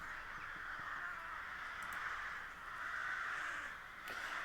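A flock of crows cawing in a loud, overlapping cacophony, harsh calls layered continuously and fairly close, with a few sharper individual caws standing out.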